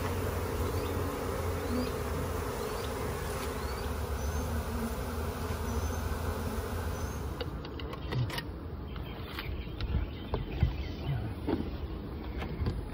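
Dense, steady buzzing of many honeybees swarming close around a long Langstroth hive, a continuous hum with occasional louder individual passes near the end.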